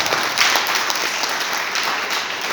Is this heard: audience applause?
yes